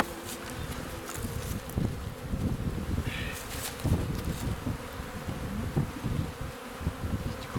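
Honeybees buzz at an open beehive during a beekeeping lesson, a continuous, moderately quiet hum with a few louder passes of individual bees close by and no talking.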